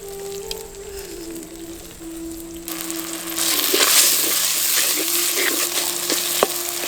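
Tomatoes and small onions sautéing in a hot pan, a steady loud sizzle that swells as the tomatoes go in, with occasional stirring clinks.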